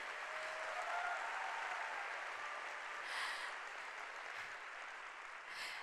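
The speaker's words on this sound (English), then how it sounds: "could you please give them a big round of applause for all their effort?" An audience applauds a team of dancers after a Bruno Mars dance routine at a corporate gala evening, giving steady, fairly distant, moderately loud crowd clapping that holds for several seconds with no talk.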